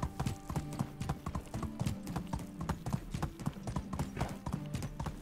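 Hooves clatter in a rapid, steady galloping rhythm as a horse runs in the Medieval Dynasty video game, close and continuous throughout without pause.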